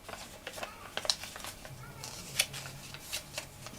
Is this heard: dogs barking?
no